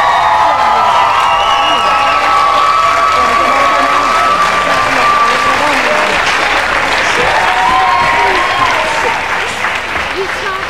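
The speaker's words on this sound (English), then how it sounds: "And everybody, give them a massive round of applause." A live audience at a televised talent show's grand final applauds the finalists with steady, loud clapping, mixed with cheers and a few whoops. The sound stays dense and fills the whole stretch.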